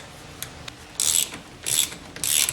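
A ratchet wrench backs off the 15 mm center nut on a 1986 Mustang GT steering wheel, heard as three close, loud bursts of rapid clicking separated by brief pauses.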